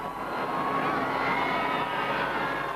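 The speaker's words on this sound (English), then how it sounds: "overhead, a bright yellow Sea King helicopter made a surprise fly past" A bright yellow Sea King helicopter makes a fly-past over crowds at a royal wedding procession. A steady, broad rotor and engine roar holds loud throughout, with no voices.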